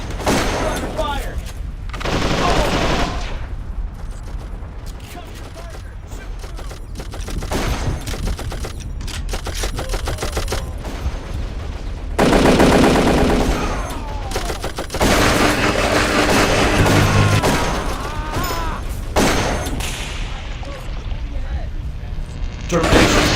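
Dense gunfire from the video game Darkest of Days, with rapid bursts and heavy volleys that are loud and nearly continuous, broken only by short lulls, while a voice speaks over the battle.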